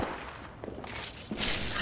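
Gunfire in an Apex Legends match, a short burst of shots with sharp cracks and a loud final volley, close and dense, no talking.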